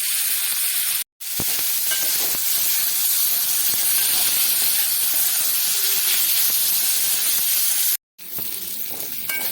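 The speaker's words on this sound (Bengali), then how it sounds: "পেঁয়াজ রসুন লঙ্কা সব ভাজা ভাজা হয়ে যাচ্ছে" Chopped onion, garlic and chili fry in a pan, giving a steady, loud hissing sizzle that runs almost without pause, broken only by two very short gaps of silence.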